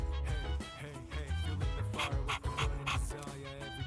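A dog in Persona 3 Reload pants in quick rhythmic breaths, close and steady over background game music.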